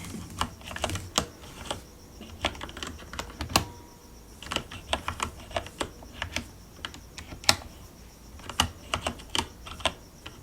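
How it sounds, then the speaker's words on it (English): Slow typing on a computer keyboard: irregular, close key clicks and occasional heavier thumps spaced out over several seconds in a quiet room, with no talking. "So let me go ahead and type this one in."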